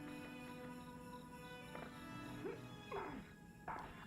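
Dog sounds from the video game Dandy's World, a few short barks and whimpers rising over steady game music, with brief yelps near the end at moderate loudness.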